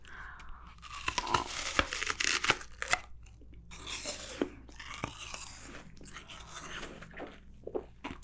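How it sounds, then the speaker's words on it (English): Close, crisp bites and chewing of a juicy, crunchy apple, with repeated sharp crunches and wet chewing bursts spread over several seconds in a quiet setting, with no talking. "You can hear this apple is very juicy. It's crunch, crunch, crunch, crunch. It's very crunchy."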